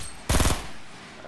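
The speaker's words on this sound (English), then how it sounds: "He's just sniping from his house." A short, loud burst of rapid gunfire from a Fortnite match, a sniper firing from a house, about a quarter second of rattling shots that cut off abruptly, with no talk over it.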